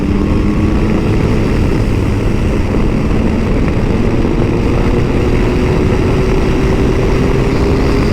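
A Yamaha Tracer GT+ motorcycle engine holds high revs, a loud, steady drone with a slowly rising pitch, heavy wind noise roaring over it throughout.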